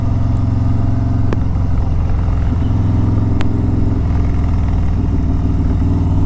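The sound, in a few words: Harley Davidson Road Glide motorcycle engine riding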